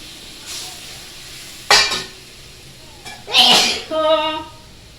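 Water poured into a hot pan on a gas stove, giving sharp hissing sizzles in a few bursts, with someone speaking between them.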